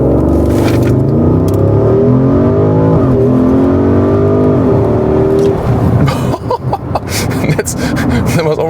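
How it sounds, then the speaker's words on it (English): A Porsche Cayenne Turbo Coupé launches uphill in Sport Plus mode, its engine roaring loud and close as revs climb steadily through the gears, with a shift and a brief break in the sound near the end. "we go to Sport Plus here to show you the launch control"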